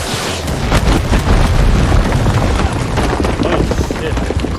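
A loud, sustained explosive roar with heavy low rumble from blowing up nets blocking a trail in the shooter game Far Cry 6, dense and continuous throughout.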